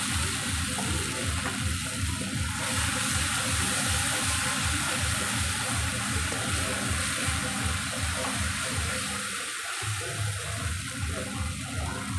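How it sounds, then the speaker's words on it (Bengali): Water poured into a hot pan holding mustard and poppy seed paste with green chillies for a parshe fish curry, a loud steady hissing sizzle with watery bubbling, close and continuous with no talk. "রাখা সর্ষে, পোস্ত আর কাঁচা লঙ্কা দিয়ে দেব। একটু জল দিয়ে দেব।"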